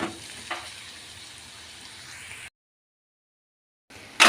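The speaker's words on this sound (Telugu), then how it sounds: "ఈ ఆయిల్లోనే చక్కగా ఫ్రై అయిపోతుంది." Boiled flat beans sizzle and fry in hot oil in a pan, a steady soft crackle with a faint stir, then a pause of silence before a sharp burst of sizzling returns.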